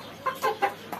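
Chickens kept alongside rabbits on a small farm cluck in four short, moderately loud bursts over about a second, with no talking.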